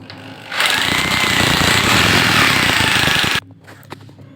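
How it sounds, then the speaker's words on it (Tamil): A power drill whines loudly while drilling into a floor to fit a new Western toilet, in one sustained burst of about three seconds, starting and stopping abruptly, with quieter shuffling before and after. "கரெக்டாக அதே மார்க்கில் வச்சுட்டு அப்படியே ட்ரில் பண்ணிடுங்க"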